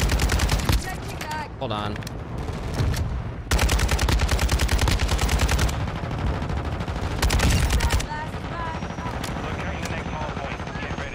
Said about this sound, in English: I should be able to shoot these crates and shit